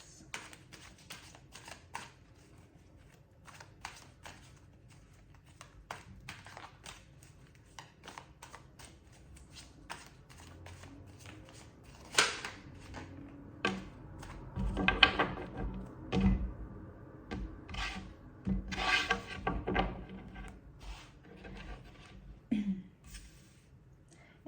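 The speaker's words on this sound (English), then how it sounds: "Any cards that come out while I am shuffling, I take as an overall energy." Tarot cards being shuffled by hand in a quiet room, a steady run of soft papery riffles and taps that builds to louder clustered flurries in the second half, with no talking.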